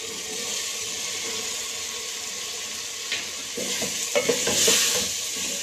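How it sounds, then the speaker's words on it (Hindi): Capsicum dropped into masala frying in a pan for aloo shimla mirch: an even sizzle, then a burst of louder crackling and stirring clatter toward the end, close and without speech. "अब इसके अंदर हम शिमला मिर्च डाल रहे हैं"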